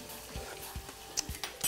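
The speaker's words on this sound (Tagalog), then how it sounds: "So lutuin na natin. So lalagyan lang natin ng... Ayan. Prito natin." Food frying in a pan in a home kitchen, a soft steady sizzle with intermittent stirring and clinks of utensils against the pan, close up with no talking.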